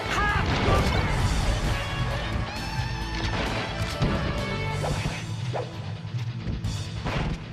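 Meteor smash hit in Super Smash Bros. Melee, with loud crashing impacts, whooshes and thwacks piled into dense, continuous game action, with no speech.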